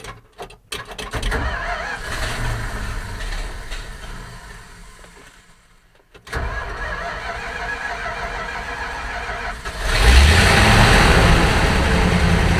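A John Deere 7800 combine engine cranks with a rough, uneven starter churn for several seconds, falls quiet briefly, then cranks again and catches into a loud, steady running roar close to the microphone.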